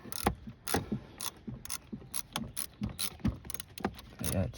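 A ratcheting wrench clicks in quick, rhythmic bursts while tightening a battery cable on a 2007-2017 Jeep Compass 2.4L, faint and close, with no voices.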